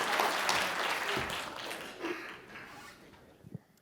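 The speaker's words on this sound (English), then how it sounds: "Round of applause." A conference audience applauding, dense clapping that fades out over a few seconds, with a brief voice near the end.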